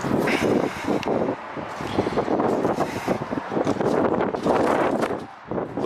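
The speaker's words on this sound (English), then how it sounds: "A little windy out today." Wind buffets a microphone outdoors beside a 2017 Heritage Glen Lite fifth-wheel trailer, loud gusty rumbling that rises and dips in uneven bursts.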